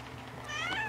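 A house cat gives one close, short meow, rising briefly over a steady low background hum.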